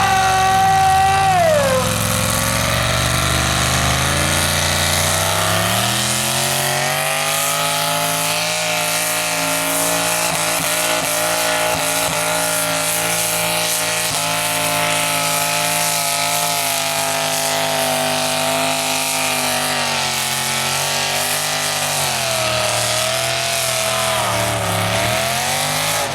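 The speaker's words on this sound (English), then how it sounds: "Hear the tone of the tractor change there, Johnny." A pulling tractor roars down the track at a tractor pull at Barmedman, its loud, continuous engine howl rising and falling in pitch as the run goes on, up close and alone.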